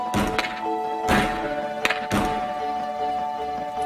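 Hockey sticks strike pucks in a few sharp, hollow thwacks spaced about a second apart, close by, with a faint ringing tone underneath.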